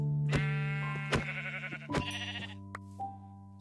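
Sheep in the video game Minecraft bleating several times in clear, close succession, short wavering calls with brief gaps between them and no voices.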